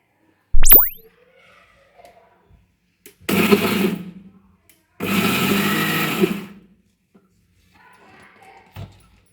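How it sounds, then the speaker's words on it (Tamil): Mixer grinder jar coarsely grinding cooled small onions (shallots) in two loud bursts of whirring motor noise, each a couple of seconds long, with quiet handling clicks and taps between and around them; no talking. "இப்போ மிக்ஸி ஜாரில் நம்ம குறப்பாக அரைச்சிட்டு வந்துடலாம்."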